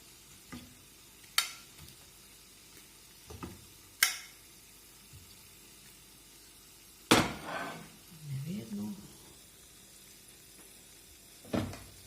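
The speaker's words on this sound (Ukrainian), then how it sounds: "Все, нехай смажиться." Thin potato slices fry in a pan, giving a soft, steady sizzle beneath sharp clanks of a utensil against the pan at intervals, with a low voice murmuring briefly in between.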